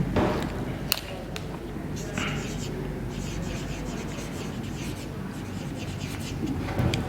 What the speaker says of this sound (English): So we'll be writing these words.